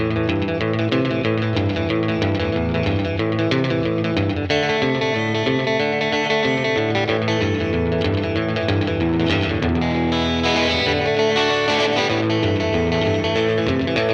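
A distorted electric guitar plays a continuous riff drenched in echoing tape delay and reverb, loud and dense throughout with no voices.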